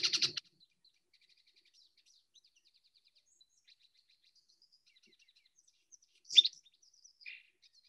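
Lawrence's goldfinch and lesser goldfinch song with mimicked notes of the other species: faint, distant high chirps and twittering phrases, a brighter burst at the start and another near the end, with near silence between.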